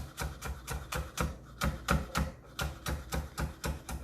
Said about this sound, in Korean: 칼을 좀 힘을 주듯이 앞쪽으로 밀어가면서 아주 곱게 채를 썰어주시고요